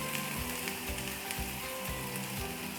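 Green chillies fry in hot oil in a pan ahead of minced chicken for chicken puff pastry filling, a steady, soft crackling sizzle with no voices.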